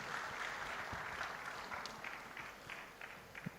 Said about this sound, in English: Give him another round of applause, ladies and gentlemen.